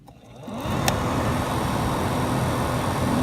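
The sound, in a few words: car blower motor running after connector plugged in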